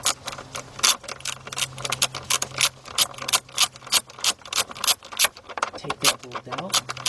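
A ratchet with a 5/16 shallow socket on a 4-inch 3/8-drive extension loosens an A/C compressor bolt on a 2006 Chevy Silverado C1500. It gives close, loud bursts of rapid clicking in an uneven rhythm with brief pauses.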